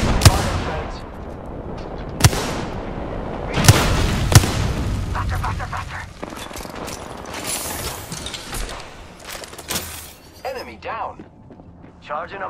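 Apex Legends gunfire in a match: sharp loud shots and booming impacts, some near and some distant, scattered across the clip with bursts of rapid fire and mechanical clatter, under an ongoing voice.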